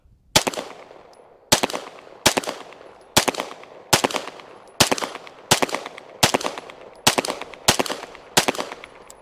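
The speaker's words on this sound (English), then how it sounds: "we're just going to shoot and compare the XP Pro to it" Ten sharp pistol shots from a Staccato XP Pro ring out at a steady pace, each loud crack close by and trailed by a short echoing decay.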